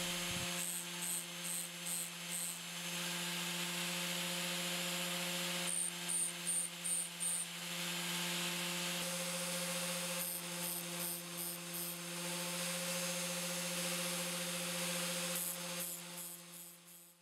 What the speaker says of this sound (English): we must sharpen every other teeth on the blade, and after that, tilt the disc towards the other side